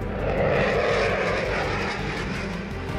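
A Chengdu J-20 fighter jet's engines roar loudly and steadily overhead, a broad sustained jet rush with no voices present.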